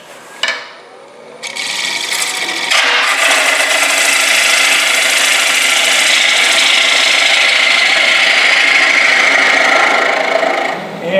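A bottom bowl gouge cuts across the bottom of a spinning wooden bowl on a lathe, riding the bevel. A short knock leads into a loud, continuous rasping hiss of shaving that holds steady for several seconds.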